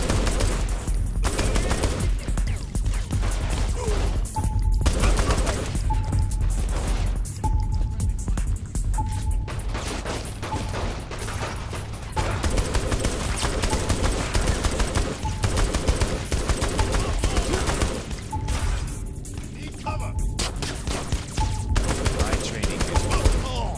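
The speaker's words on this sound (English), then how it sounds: "Where are they shooting from?" Gunfire in a Saints Row: The Third Remastered firefight, with dense bursts of shots rattling throughout against a busy game soundscape, a short repeating tone, and voices talking.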